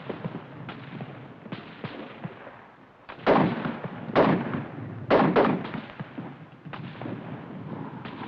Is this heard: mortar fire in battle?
yes